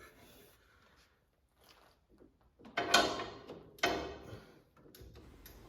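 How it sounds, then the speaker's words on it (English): A 17 mm wrench works loose the plastic differential plug on a 2003 Arctic Cat 500 ATV, giving two short, close bursts of scraping and clicking between quiet stretches. "I am going to put a 17 millimeter on that nut right there, and I'll open up that differential"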